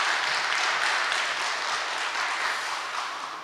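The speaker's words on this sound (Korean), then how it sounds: "인사하실 때 박수해 주시기 바랍니다" Steady, dense applause fills a church hall during a founding worship service as a newly appointed interim pastor stands to greet the congregation, holding level for a few seconds before easing slightly.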